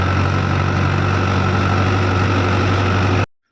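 A 60 HP tractor engine labours steadily under the load of an 8-foot rotavator during wheat sowing, giving a loud, continuous low drone with a knocking edge that cuts off abruptly near the end.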